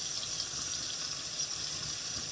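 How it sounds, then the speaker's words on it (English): Running tap water pours steadily while salmon is rinsed at a kitchen sink, a continuous broadband rush with no speech over it. "washing the salmon is easy. All you're doing is just rinsing it."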